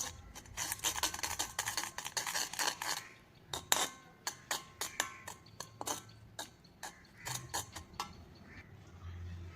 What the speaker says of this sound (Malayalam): ഇനി ഇത് കട്ട് ചെയ്യുന്നില്ലാണ്ട് നല്ലപോലെ ഒന്ന് മിക്സ് ചെയ്തെടുക്കാം.